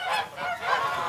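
Geese honk together on a foie gras farm, a dense, continuous chorus of overlapping nasal calls from a flock of around 120 birds.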